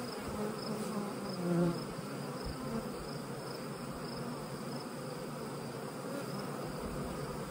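Bees feeding on nectar around a hive make a dense, steady buzzing hum, continuous and fairly faint, with no voices.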